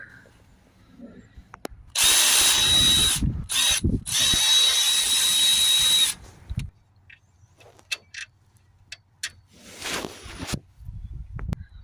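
A 16mm hand ratchet on alternator bolts of a Ford Focus 1.6 TDCi diesel, a loud rapid clicking burst lasting a few seconds with brief pauses, then quieter scattered mechanical clinks.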